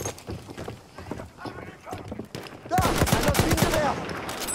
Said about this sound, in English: They're sending a horse onto our location.